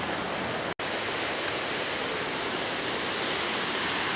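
The Peshchersky waterfall in Altai Krai roars as one steady, close wash of falling and splashing water, loud and unbroken except for a split-second dropout near the start.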